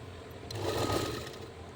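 A sewing machine runs a long tacking stitch around a lined blouse fabric, a short, close mechanical whir that swells and then eases off.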